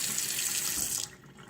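Water runs steadily from a Cinaton 2201 iSense smart touchless kitchen faucet, a loud close hiss that cuts off abruptly about two-thirds through as the faucet shuts off, leaving near silence.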